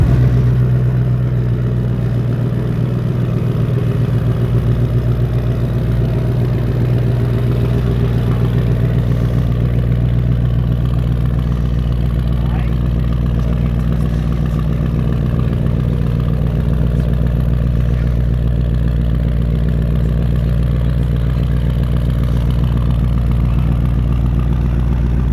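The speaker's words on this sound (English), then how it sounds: "if you want to hear the sound, this Coyote V8" The Coyote V8 of a Ford Mustang Dark Horse idles steadily in a deep, even burble, loud and close, holding the same low rumble for about twenty-five seconds with no voices.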